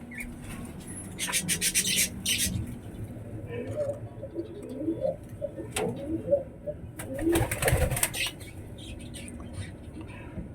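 Pigeons kept in breeding pairs give soft cooing and bird calls, with scattered rustling and rubbing nearby, while a person talks over much of it.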